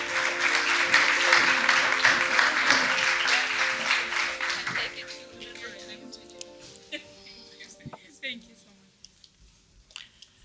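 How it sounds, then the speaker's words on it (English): Conference audience applauding a minister at a UN80 multilateralism session, a dense wash of clapping that fades after about five seconds, leaving scattered faint claps and small noises. "A round of applause."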